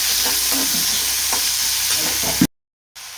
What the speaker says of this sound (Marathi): कांद्यासोबत थोडीशी कोथिंबीर पण घालूया, म्हणजे तेलामध्ये छान परतते.